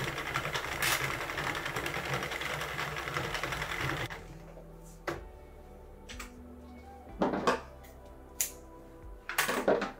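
Sentro or Addi circular knitting machine being cranked through rows, a dense ticking clatter for about four seconds, then quiet with scattered clicks and knocks.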